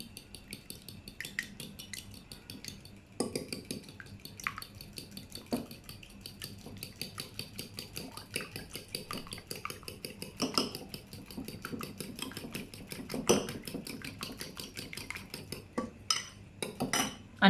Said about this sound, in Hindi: अब अंडों को अच्छे तरीके से फेंट लेते हैं